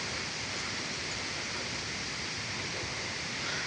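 Waterfall in Laos, a continuous broad rushing roar of falling water, steady and fairly close with no talk over it.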